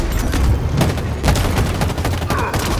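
Dense rapid gunfire from the video game Halo Infinite, loud and close, with continuous automatic bursts and booming impacts filling the whole moment, no speech.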